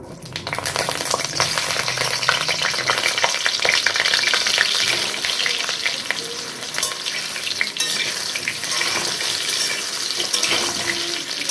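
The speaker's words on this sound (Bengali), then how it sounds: "তেলটা গরম হয়ে গেছে এবার সব আলুগুলোকে আমি দিয়ে দিচ্ছি তেলের মধ্যে" Boiled potato pieces fry in hot mustard oil in a wok, giving a loud, continuous crackling sizzle with scattered pops and occasional stirring scrapes.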